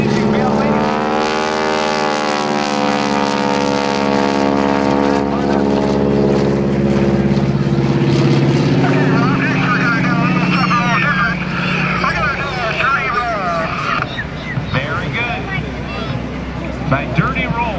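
An airplane flies slowly with its landing gear down at the 2010 Blue Angels Homecoming airshow. A loud, steady propeller-engine drone slowly shifts in pitch as it passes, while an announcer talks over it.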